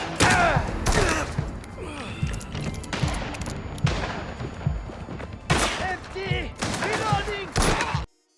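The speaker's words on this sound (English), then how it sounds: "The guns have a real punch and weight to them, with each shot booming." Guns in the video game Mafia: The Old Country fire in heavy, booming shots and short bursts, repeating every second or so, with a voice heard between them.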